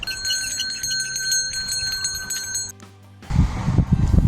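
A handbell rings repeatedly with bright, sustained metallic tones, then a brief hush before a louder burst of clanging and rumbling.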